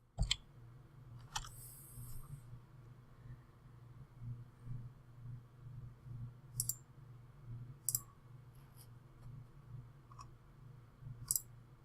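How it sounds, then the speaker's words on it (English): Quick, light clicks of computer keyboard keys being tapped while a password is entered manually, a few sharp taps spread unevenly over a steady low hum, with no talking. "Let me type this in manually."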